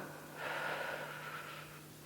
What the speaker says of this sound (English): take a deep inhale. Then a long exhale